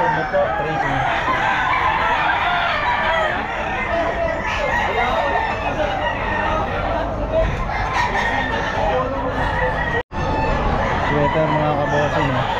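A nine-month-old Sweater gamefowl rooster crows amid other clucking chickens at a busy pet market in Bocaue, repeated loud crows over a dense crowd and livestock din with people talking in the background.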